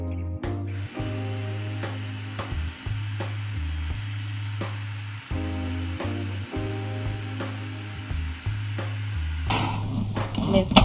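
Electric mixer beating Oreo strawberry cheesecake cupcake batter, a steady loud motor whir that shifts pitch as the speed changes, running close and continuous with a brief pause near the start and a louder rattling stretch at the end.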